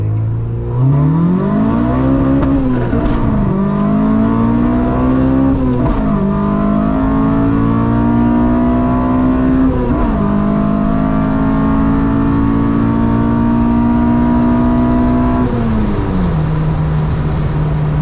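A Honda Civic EK hatchback with an H2B engine swap accelerates hard, its engine note climbing steadily through several gears with brief dips at each shift, loud and close from inside the car.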